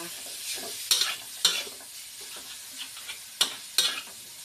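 Southern Thai curry paste stir-fried in a pan, a soft continuous sizzle broken by several sharp spatula scrapes and clacks at uneven intervals, close and without talk.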